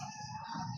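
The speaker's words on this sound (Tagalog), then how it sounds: "ibang manok nandun sa kabila" Chickens on a small farm with turkeys nearby, a brief faint burst of clucking and crowing-like calls, distant and low in level, with no talk.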